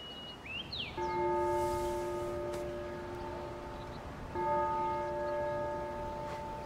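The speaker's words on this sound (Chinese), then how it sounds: "钟声要来了。" A large bell tolls twice, each strike ringing out in long, sustained tones that slowly decay, with no voices around it.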